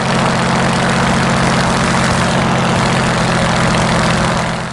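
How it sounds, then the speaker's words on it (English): A Supermarine Spitfire's piston engine runs up to about 1800 RPM on the ground as the propeller is cycled between fine and coarse pitch, a loud, steady, close droning roar with a deep hum underneath. "push the power up to about 1800 RPM, and then cycle the propeller from fine pitch to coarse several times"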